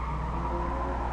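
Toyota GT86 with a 2-litre 16V engine and six-speed manual in GT Sport, its tail sliding out as the tires skid, a steady loud engine drone with smeared tire noise for about a second and no talk.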